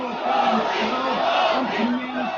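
A large street crowd chants in unison for Gorbachev, a repeated rhythmic call rising and falling over a dense roar of many voices, loud and sustained.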